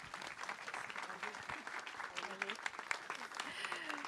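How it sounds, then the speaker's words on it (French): An audience applauds at the inauguration of a pastry-arts event, a dense, sustained round of clapping filling the room, with faint voices mixed in. "Je vous demande un maximum d'applaudissements pour Mélanie Simon et Gaëlle Rémy-Néris-Levesque."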